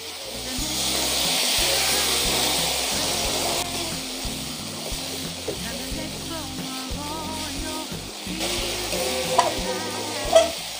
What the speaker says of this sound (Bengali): কষানো হয়ে গেছে, দেখো কড়া থেকে তেল ছেড়ে দিয়েছে